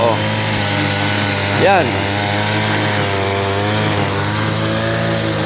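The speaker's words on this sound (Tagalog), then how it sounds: "Tingnan mo yung mga ginagrass cutter niya." A grass cutter runs on a farm, its loud, steady engine drone rising briefly in pitch partway through, while someone talks over it.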